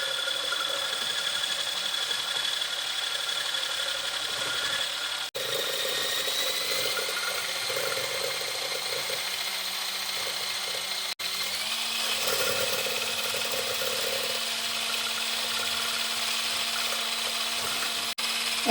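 A Silvercrest SSMS 600 E5 hand blender runs on its fast setting with a steady, loud motor whine that holds for the whole stretch, broken only by a few brief clicks where the pitch shifts slightly.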